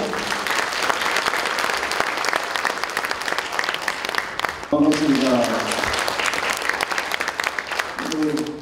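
Audience applause at a regional innovation forum welcoming the Gyeongsangbuk-do governor to the lecture stage, dense sustained clapping filling the hall throughout, with a voice speaking a brief greeting over it in the second half.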